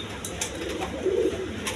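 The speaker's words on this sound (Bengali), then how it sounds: "বন্ধুগণ এইখানে এক পেয়ার কবুতর আছে, দেখেন হাই ফ্লাইং কবুতর" A pair of high-flying pigeons on a pigeon farm coo softly with low, throaty murmurs, a steadier coo swelling near the end, over faint background noise.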